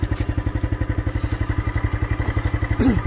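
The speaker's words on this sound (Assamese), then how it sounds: "এতিয়া মই বাইকত বহোঁ" A motorbike engine near a tea estate thumps in a steady, fast rhythm close by, with a brief squeak near the end.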